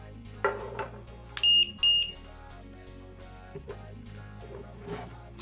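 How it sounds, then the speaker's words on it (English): A cordless drill battery pack's low voltage alarm lets out two short, shrill beeps in quick succession over a low background hum, with a few faint clicks around them. "or you can switch off the beeping alarm"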